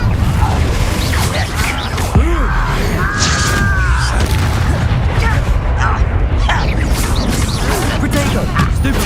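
Confringo fire spells cast in Hogwarts Legacy, loud booming blasts and crashing impacts with swooping magical tones over dense, continuous combat noise.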